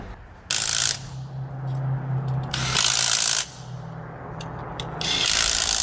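A ratchet tightening a fitting on a Chevy Impala lowrider, its rapid clicking bursts coming in three loud spells with quieter pauses between, close by, no talk.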